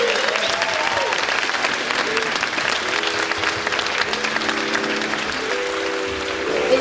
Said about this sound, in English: Should we give one last round of applause?